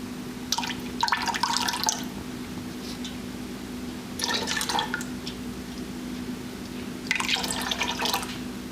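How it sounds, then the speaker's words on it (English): Lye being poured slowly for soap making into a stainless steel pot, heard as three separate bursts of trickling, splashing liquid with quiet pauses between them, over a steady low hum. "So here's the lye. We're slowly going to add very carefully."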